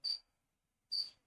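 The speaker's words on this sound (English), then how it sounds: "Do I hear crickets?" Two short, bright cricket chirps, evenly spaced with a pause between them, clear and close against silence.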